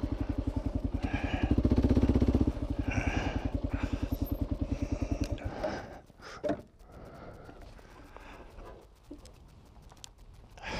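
Motorcycle engine running on a muddy road, a steady pulsing idle-to-rev drone for the first half that drops away, followed by scattered knocks and rustles.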